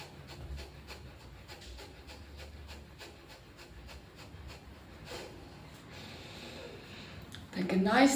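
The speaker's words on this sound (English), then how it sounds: "It's called a fire breath." Rapid, rhythmic forceful breaths in a fire breath exercise, quick puffs pulsing steadily at close range, swelling louder at the very end.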